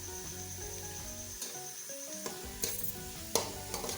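Onions browning in a pan for chana pulao, a continuous close sizzle with intermittent stirring and a few sharp utensil clinks, no voices.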